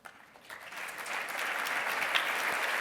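Audience at a 2019 association assembly breaks into applause that swells from a few claps into a full, sustained round from the crowd, steady and fairly close without talk.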